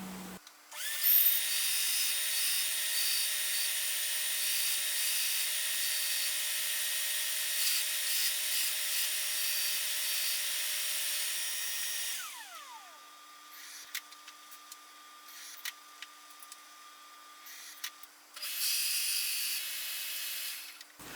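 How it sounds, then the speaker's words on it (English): A belt sander grinds steadily against wood for a long stretch, then a drill press shifts to quieter intermittent whirring and scraping before running again, while making weed pots. "So I'm going to head over to the belt sander and the drill press."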